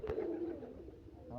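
An old-breed green Giribaz pigeon from Rajshahi gives a short, soft, low coo, faint and close, with no talking.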